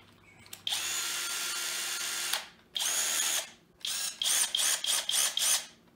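A cordless drill-driver with a brushless motor and hammer mode whirs in a long continuous run, then a shorter run, then a series of quick on-off bursts, loud and close with no talk.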